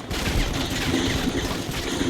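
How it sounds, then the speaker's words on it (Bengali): Gunfire in the mobile shooter Modern Combat 5 comes as a dense, loud roar of rapid shots that blur into one continuous fusillade for about two seconds, with no pause between them. "ফায়ারিং হয়ে গেছে।"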